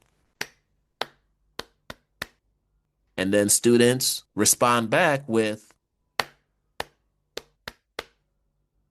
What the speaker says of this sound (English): I'll simply just do a loud clapping pattern like this.